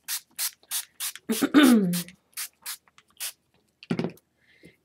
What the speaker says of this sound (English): I'm just going to spray the whole sheet